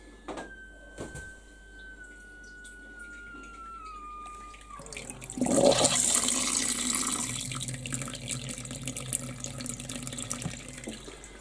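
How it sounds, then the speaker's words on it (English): A pump transferring water from a tap for batch sparging while home brewing a white session IPA: a quiet hum and tone first, then the valve clunks open and a steady rush of flowing water follows and continues. "Open tap, turn the pump on."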